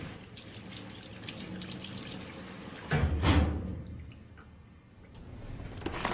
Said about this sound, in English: Rinse hands and arms thoroughly.